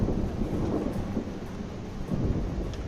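Thunderstorm in the video game Life Is Strange: a steady, dense roar of heavy rain with low rumbling thunder beneath, continuous and fairly loud throughout, with no talking.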